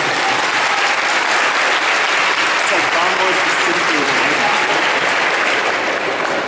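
A packed convention audience at Paris Manga gives a loud, sustained ovation during a celebrity panel, dense clapping from a large crowd that stays steady for the whole stretch with faint voices mixed in.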